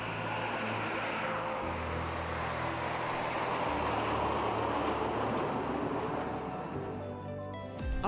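A Boeing E-4B arrives at the RIAT airshow, its jet engines producing a broad, sustained roar with deep droning tones that swell and then cut off sharply near the end.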